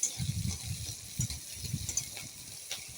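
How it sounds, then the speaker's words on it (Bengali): Prawn heads frying with green chillies and garlic in a pan, giving a soft steady sizzle with light scraping and stirring knocks, fairly quiet and with no talk. "একটু ভাজা করে নিলাম"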